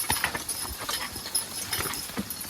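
Hoofbeats of a team of young draft horses, two and three years old, being driven in training: a loose, steady clip-clop of hooves striking ground, fairly close, with no talk over it.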